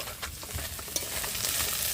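Small, fresh river fish fry in oil with a dense, close sizzle, broken by a few soft knocks as the pieces are flipped, over two seconds.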